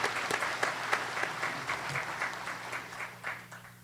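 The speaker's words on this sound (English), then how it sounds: "Please give these people a round of applause." An audience at a Kirtland Community College commencement ceremony applauds with steady, sustained clapping from a sizeable crowd in a hall, fairly even in loudness throughout.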